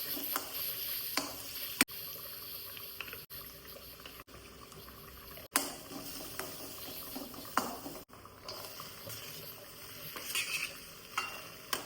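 A thick kingfish curry simmers and reduces in a pot, giving a steady soft bubbling hiss broken by occasional sharp clicks and knocks, with no talking.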